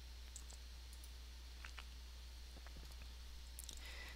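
Faint, scattered clicks of a computer mouse and keyboard typing as a chemical formula is entered into a search field, sparse irregular taps over a low steady hum.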